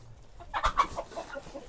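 Chickens and roosters clucking in a short, uneven burst of squawks peaking midway, moderately close with light background farmyard noise and no voices.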